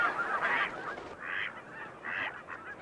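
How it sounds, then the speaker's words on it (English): Geese in a large flock resting at a staging marsh, loud honking calls repeating in bursts about every second, fairly close with a soft marsh background. "Here, thousands of birds stop to rest and feed."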